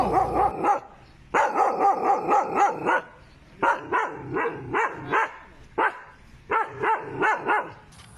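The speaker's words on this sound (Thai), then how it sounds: "นั่นน่ะไอ้พวกหมาพวกนั้นน่ะมันเห่าอะไรกันนะครับ" Several dogs barking in quick bursts, loud and close, with short pauses between volleys.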